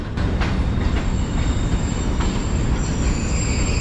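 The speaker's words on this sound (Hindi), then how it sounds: "छः बज के 7 मिनट पर ट्रेन पहुंची है, ग्रीन लाइन के ही बिजनेस क्लास के साथ बेहतरीन।" The Green Line Express from Islamabad rolls in with a steady heavy rail rumble and a high, sustained wheel squeal, loud and continuous without voices.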